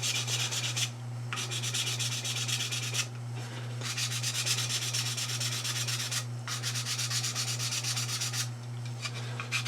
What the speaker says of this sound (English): just going to give this a little bit of sanding back here. Knock off all the high spots.